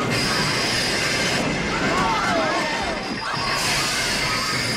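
A train pulls away in Back to the Future Part III, a loud steady rumble of wheels on rails with squealing metal tones midway and people talking over it.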